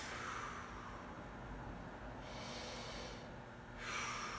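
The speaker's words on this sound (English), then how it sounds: "take a deep breath." Deep breathing during a guided stretching routine: slow, close, quiet breaths with a long airy inhale and a second one near the end, against a faint steady background hum.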